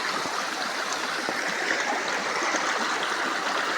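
River water flowing in a steady, continuous rush with a soft gurgling texture, heard up close and alone, with no voices over it.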